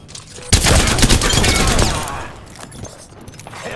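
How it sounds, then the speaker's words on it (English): Video game gunfire in a shooter match: a dense, loud fusillade of rapid shots bursts in after a brief lead-in, then trails off into scattered, fainter shots. "The enemies are shooting at me"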